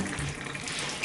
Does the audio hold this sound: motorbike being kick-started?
no